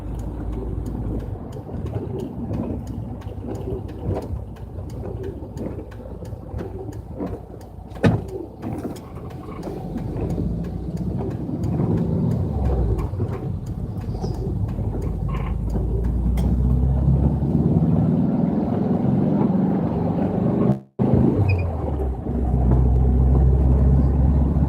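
An old VW bus drives along a road with a steady low engine rumble and road noise inside the cabin, occasional rattles and clunks, and the drone growing slightly louder and deeper toward the end.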